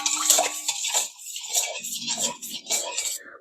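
Two kimchi sauces mixed together in a bowl, with soft wet stirring, scraping and light clinking of a utensil in an irregular rhythm, close and fairly quiet, with no voices.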